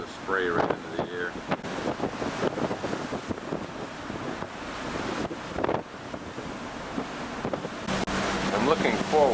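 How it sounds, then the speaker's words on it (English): Strong wind buffets the microphone on a cruise ship sailing toward Cape Horn, with waves and surf rushing beneath a roaring gusty wash; a voice talks faintly in places. "you get a sense of the wind that's blowing out here"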